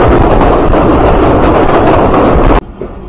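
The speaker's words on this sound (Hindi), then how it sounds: "तो ये ट्रेन तो निकल गई हमसे आगे।" Loud, steady rumble and clatter of a passenger train running close by alongside another train on parallel tracks near Lala Musa Junction, cutting off abruptly near the end to a quieter background.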